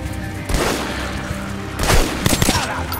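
Gunshots and explosive bursts from the post-apocalyptic shooter Metro Last Light, loud and dense over a constant rumbling battle bed, with a cluster of sharp shots near the end.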